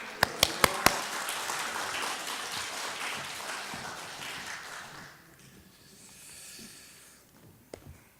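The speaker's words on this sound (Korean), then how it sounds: "우리 목사님 나오실 때 할렐루야로 박수하시겠습니다" Congregation applause at a Sunday church service in Auckland, a broad wash of clapping after a few sharp taps, filling the room for several seconds before thinning out, with a few scattered claps near the end.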